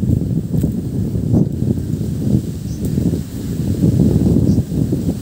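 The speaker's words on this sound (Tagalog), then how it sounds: "Napakalakas ng hangin." Strong wind buffets the microphone outdoors in a rainy spot where large homemade firecrackers are being lit, giving a steady, loud low rumble with gusty swells and no one talking.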